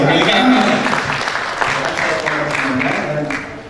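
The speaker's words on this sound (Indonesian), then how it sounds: "tepuk tangan dulu dong" Audience applause at a university open house for a master's management program, dense clapping filling the room at steady loudness with a voice and murmurs mixed in.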